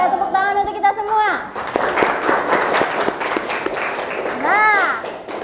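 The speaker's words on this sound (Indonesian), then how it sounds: "tepuk tangan untuk kita semua" Students clap in a school classroom during a lesson. A burst of applause swells over several seconds, mixed with children's voices calling out before and after it.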